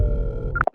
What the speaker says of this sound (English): I held my phone out and showed him that I was dialing Eddie's phone.